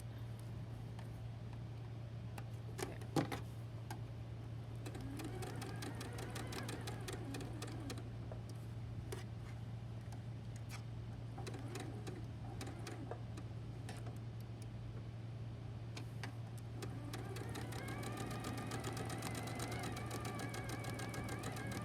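A sewing machine stitches fabric at close range with a steady motor hum and rapid, even needle ticking that runs throughout and grows slightly busier near the end.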